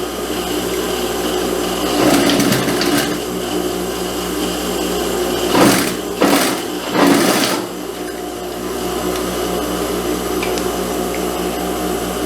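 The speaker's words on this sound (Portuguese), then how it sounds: "Viro assim certinho e passo uma segunda costura." A sewing machine runs a second seam along fabric for a pantacourt jumpsuit, giving a steady close mechanical whir with a few louder bursts of stitching in the middle, with no voices.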